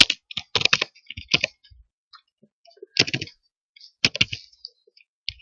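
Keys clatter on a computer keyboard while a command is entered at a Command Prompt, with quick bursts of clicks separated by short pauses, close and fairly clear, and no talking over it.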